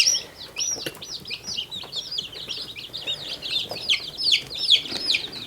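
Backyard coop chickens, including a black copper Maran, cream legbars and an Austra white, cluck and chirp continuously at close range with no talking.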